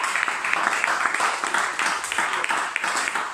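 A church congregation claps and cheers together at the close of a seminar, a dense, steady patter of many hands filling the room for a few seconds.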